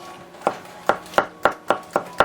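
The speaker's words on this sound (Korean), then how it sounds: "다음에 샐러리를 썰어주도록 하겠습니다" Knife chopping celery on a cutting board, seven sharp, evenly spaced chops in a steady rhythm, close and clear against a quiet room.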